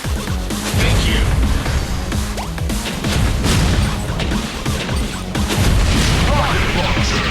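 Rocket launcher fire erupts in the Metal Slug mobile game during a desert town stage. Dense, loud booms and crashing blasts overlap in rapid succession with no pause throughout.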